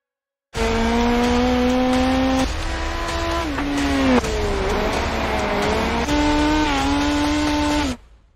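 Race cars in the iRacing simulator roar steadily on track, a loud, sustained engine drone whose pitch shifts with gear changes and passing cars, heard alone for several seconds before cutting out abruptly.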